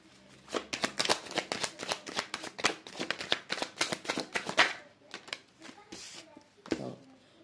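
Tarot cards being reshuffled by hand, a close run of quick riffling flutters and soft snaps, pausing briefly before a few final shuffles.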